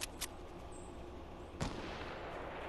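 Sporadic gunfire from the video game Fortnite: a couple of sharp shots at the start and another crack partway through, over a steady low rumble of game ambience, no one talking.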